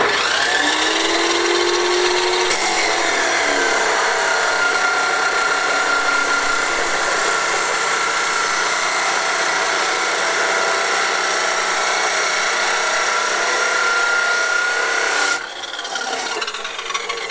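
A power tool grinds harshly and continuously through metal brackets for many seconds, loud and close, shifting slightly in pitch before cutting out near the end.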